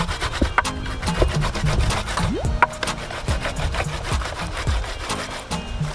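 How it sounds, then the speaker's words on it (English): Fresh ginger is grated by hand over a bowl of coconut milk, making close, quick rasping strokes in a steady back-and-forth rhythm. "so I grate the ginger now"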